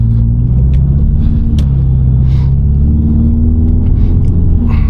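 A Volkswagen Golf R driving in normal mode with its exhaust valves closed, giving a steady, subdued engine and road rumble heard from inside the cabin throughout, with no talk.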